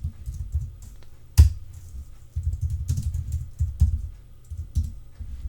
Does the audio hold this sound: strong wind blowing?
no